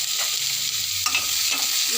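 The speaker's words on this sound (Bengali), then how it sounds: "এবার আমি পেঁয়াজ দিয়ে দেবো।" Onions go into hot oil and fry with a loud, steady hiss, while a few soft stirring scrapes rise over the constant sizzle; close up, with no talking.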